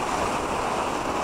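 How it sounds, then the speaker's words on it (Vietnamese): Big ocean waves crash on the shore at Đèo Nước Ngọt, Vũng Tàu, a loud, dense, continuous roar of surf mixed with wind buffeting, with no voices. "Ở đây sóng khá là to,"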